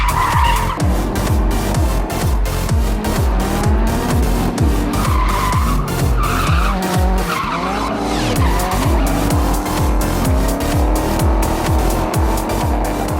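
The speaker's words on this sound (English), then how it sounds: "the drift track is already open for passenger rides" A drift car on the track at Santa Pod Raceway gives a passenger ride, its engine roaring loud and close with sustained, wavering tire squeal and repeated skids throughout.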